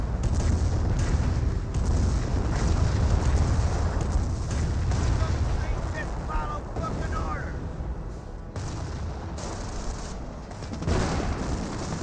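Artillery barrage explosions in Company of Heroes, a dense continuous rumble of booms and blasts filling the whole stretch, loud and sustained with a commentator talking over it.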